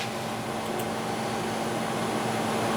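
A CNC column milling machine, switched on for spindle-encoder threading work, running with a steady, even mechanical hum and hiss throughout, constant and fairly quiet with no talk.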